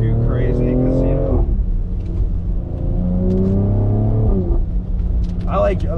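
A BMW X3M with a single midpipe exhaust revs up through the gears as it drives on a rainy day, with loud engine rumble and rising pulls, while someone speaks over it in places.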